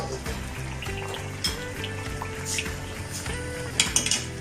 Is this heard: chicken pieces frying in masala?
yes